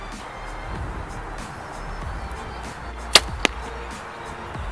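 An arrow releases from a bow with a sharp snap, quickly followed by a second crisp hit, against quiet outdoor wind noise.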